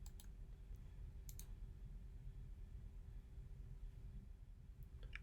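Sparse, crisp clicks of a computer mouse button sound close and quiet against a faint hum, a few isolated presses spaced apart with no talking.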